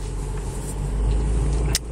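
Van driving past in an apartment parking lot, a loud low engine rumble swelling as it nears, with a brief sharp noise near the end, no talking.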